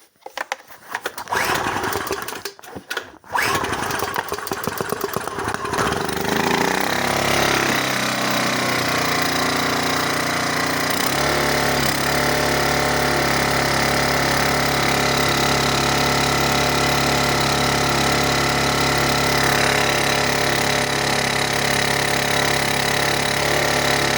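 A small inverter generator with a clogged carburetor runs loud and steady after a few seconds of broken clatter at the start, its engine note shifting up and down as it is revved and settles.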